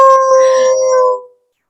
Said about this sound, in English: the fire truck just drove by and I was like, uh-oh, he's going to start howling